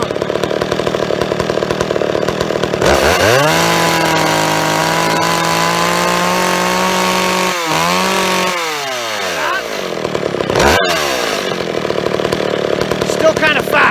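An old chainsaw engine runs steadily while its carburetor is tuned. It starts idling rough, revs up to a sustained high whine, drops and surges several times, and ends with a brief cutoff and restart. The saw is close and loud, with no talk.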